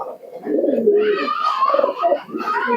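Pigeons of the Andra breed cooing up close, soft throaty rolling coos one after another with a few brief chirps mixed in.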